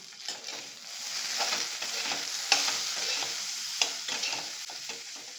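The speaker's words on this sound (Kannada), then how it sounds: "ಈಗ ನಾವು ಚೆನ್ನಾಗಿದ್ದು ಫ್ರೈ ಮಾಡ್ಕೊಳ್ಳೋಣ" Okra frying in a pan with a little salt, a steady close sizzle broken by scraping stir strokes and a few sharper clicks of a spatula against the pan, with no voices.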